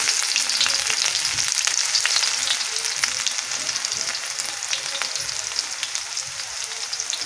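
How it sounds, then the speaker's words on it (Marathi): Chopped onion frying in oil with popped mustard seeds for a pigeon-pea pod curry, a loud, steady, close-up sizzle with fine crackles running throughout and no pauses. "इथं मोहरी करून घेतलेली आहे थोडासा कांदा घालत आहे"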